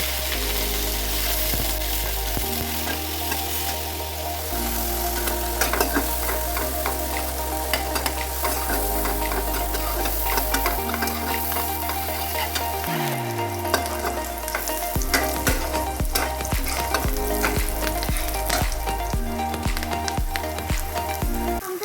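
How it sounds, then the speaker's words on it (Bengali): Chopped onion and green chilli sizzle in hot mustard oil in a pot, a loud, continuous close frying hiss over a steady tonal background hum. "পাতিলে সরিষার তেল গরম করে তার মধ্যে পেঁয়াজ কুচি এবং কাঁচা মরিচ দিয়ে দিচ্ছি"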